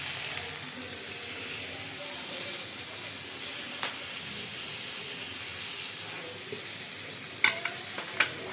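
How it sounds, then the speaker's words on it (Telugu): Vegetables hiss and sizzle steadily in a hot pan for mixed vegetable rice, a continuous frying wash broken by a few sharp clicks and clatters of utensils near the end, with no talking. "ఇదిగోండి, ఇప్పుడు మన దగ్గర ఉన్నటువంటి వెజిటేబుల్స్ ఇప్పుడు దీంట్లో ఏం వేయాలనుకున్నామో అవన్నింటిని వేసేసుకుంటున్నాను"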